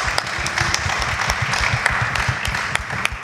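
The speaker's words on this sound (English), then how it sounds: "give them a round of applause, yeah?" A church congregation claps and applauds a visiting ministry choir during a Friday worship service, with steady, dense clapping throughout that sounds full and close.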